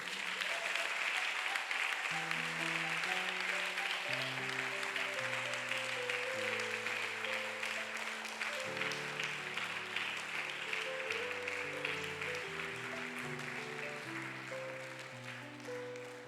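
A church congregation applauding, sustained dense clapping running throughout while sustained organ or keyboard chords play underneath.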